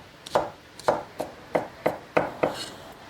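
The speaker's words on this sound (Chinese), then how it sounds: "切一点姜葱壳块儿和姜蒜放到一起" A knife chopping ginger and scallions on a board, seven crisp evenly spaced strokes about a third of a second apart, close and clear with no talk.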